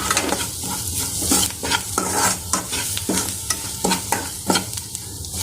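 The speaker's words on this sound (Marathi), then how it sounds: "हा मसाला आपल्याला तेल सुटोपर्यंत छान परतून घ्यायचा" Onion masala for a dhaba-style potato bhaji stir-fried in oil, a steady close sizzle broken by repeated scraping stirs of a spatula against the pan, no voices over it.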